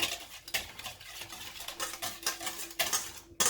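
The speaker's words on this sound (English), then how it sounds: "a bit of Himalayan salt, a little bit of pepper, and give it another whisk" A whisk taps and scrapes through coleslaw dressing seasoned with Himalayan salt and pepper in a bowl, quick irregular clinks and swishes close to the microphone, with short pauses between strokes and no voices.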